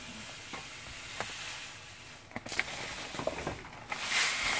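Grease goes into a pot of cooking cassava fufu, giving a soft sizzle with scraping stirring strokes and light patter that swell toward the end, close up and with no talk.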